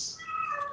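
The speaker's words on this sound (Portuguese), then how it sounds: "Isso é uma gata aqui pedindo comida." A female cat lets out a single drawn-out meow, asking for food, fairly close and clear with no talking over it.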